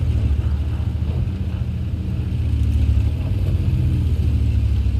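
Stock engine of a 53 TP tank in World of Tanks, a steady low rumbling drone with a slight swell midway, continuous and fairly loud with wind-like hiss on top.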